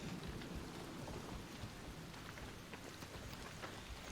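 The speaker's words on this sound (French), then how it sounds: "Et là en plus il pleut" Steady rain hisses densely in the ARC Raiders video game, a constant even wash with no voices over it.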